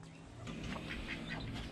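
Domestic ducks quacking on a Vietnamese farm where mandarin ducks and pheasants are raised, a steady overlapping chatter of nearby birds that grows fuller after the first half second, with no talk.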